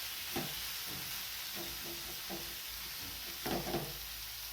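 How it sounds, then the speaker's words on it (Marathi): Cluster beans fry in a pan and are stirred with a utensil, a steady soft sizzle under irregular scraping strokes, a few louder stirs near the end, close and fairly quiet. "इकडे आपल्याला अशा पद्धतीने मिक्स करून हे घ्यायचं आहे."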